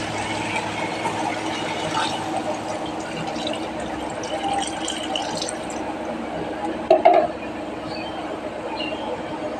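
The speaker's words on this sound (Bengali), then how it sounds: "এবার জল দিয়ে দেবো।" Water poured into a pot of spiced papaya and potatoes, a continuous low gush and fill sound with a brief clatter partway through.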